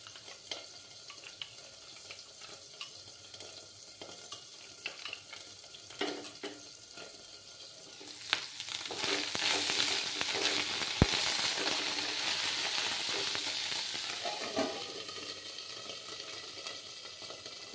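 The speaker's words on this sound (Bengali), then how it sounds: "তেলটা একটু ছিটছে তো" Oil spatters and sizzles in a pan of frying curry, a continuous crackling hiss that grows louder and busier about halfway through, with occasional clinks of a utensil.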